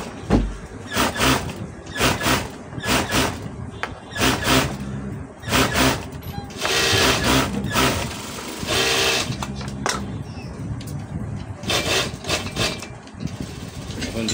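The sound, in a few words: sewing machine double-stitching a blouse sleeve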